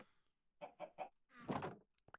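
Chickens clucking in Minecraft, a quick burst of three short clucks followed by a longer squawk, close and fairly quiet against silence.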